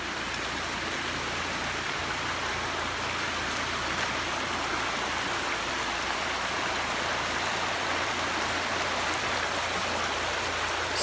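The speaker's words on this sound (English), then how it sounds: "this must be Paint Creek." Paint Creek near Hot Springs, North Carolina, runs over rocks with a steady, close, full rush of water that holds even and unbroken from start to finish, with no voices.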